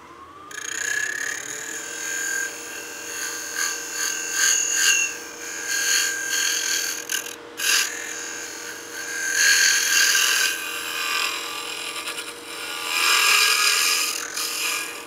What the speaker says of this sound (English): pay attention to the noise the tools and the wood are making when you're cutting